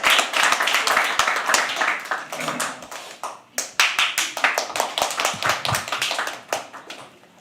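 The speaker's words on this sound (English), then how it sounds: "Start clapping." A crowd at a live poetry open mic claps loudly and close as a poet walks on stage, dense applause that thins into scattered, uneven hand claps and then fades out.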